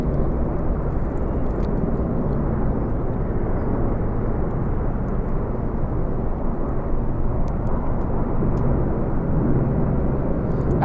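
Apache helicopters fly over during the Platinum Jubilee flypast, a continuous heavy rotor and engine rumble that stays loud and steady overhead with no break.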